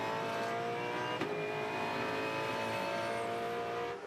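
A V8 Supercar race car engine howls steadily at high revs, close and loud, with a sharp gear shift break early on and another near the end.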